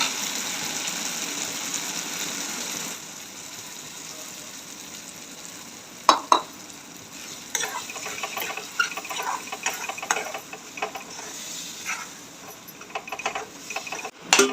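Soaked besan stirred into softened chopped tomato in a pan for pithla, a low soft sizzle at first, then irregular clinks and scrapes of a spoon mixing the batter, close and moderately quiet.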